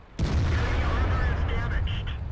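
A 122mm tank cannon fires in World of Tanks from the ST-I heavy tank: a sudden loud blast followed by a sustained low, rumbling roar that lingers for the rest of the moment.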